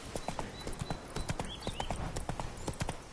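Hooves of Roach, a horse in a video game, clip-clop in a steady walking rhythm, close and distinct, with a faint brief whinny-like tone midway.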